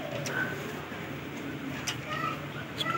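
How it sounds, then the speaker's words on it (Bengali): Two young adult female Damascene pigeons coo softly and intermittently near a steady background hum, with faint wing or movement sounds. "দুইটা ফিমেল দামাসিন কবুতর"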